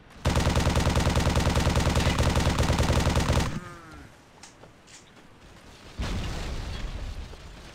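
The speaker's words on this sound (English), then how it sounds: "They threw a frag at me!" Gameplay from Halo with a sustained loud rapid burst of gunfire for about three seconds, then a quieter stretch of scattered pops, followed by a frag grenade blast and its rumbling decay.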